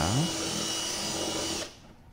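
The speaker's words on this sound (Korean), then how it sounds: "구멍이 작아서 좀 더 큰 놈으로 뚫어 줄게요." A power drill bores a larger hole in the rear fender of a Tesla Model 3, whirring up to speed and running steadily for about a second and a half before cutting off abruptly.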